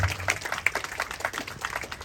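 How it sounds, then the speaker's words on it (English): Audience applause at a high school memorial ceremony following the introduction of a district superintendent's representative, heard as a steady patter of many hands clapping at moderate distance. "could you have a round of applause to Mr. Tom"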